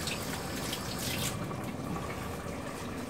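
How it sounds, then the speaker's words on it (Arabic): Hands are washed under a running kitchen tap between steps of making brioche: a steady, close, full rush of flowing water and splashing, continuous throughout with no talking. "غادي نغسل يديا"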